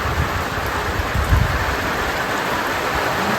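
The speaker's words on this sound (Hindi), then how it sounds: "हम लोग यहाँ पहुँचते ही बारिश शुरू हो गई है, हेवी रेन" Heavy rain pouring down in a village, a loud, dense, continuous hiss of drops striking surfaces, steady throughout with faint low rumbling beneath and no talking.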